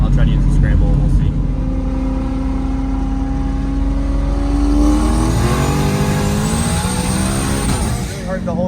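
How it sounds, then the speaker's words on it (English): Car engine accelerating hard under turbo boost while testing an eBoost2 boost controller scramble switch, a loud sustained rising engine note heard from inside the cabin, with a person talking over it. "Once the car warms up, we're gonna do a little hit, and then I'll try to use the scramble, and we'll see."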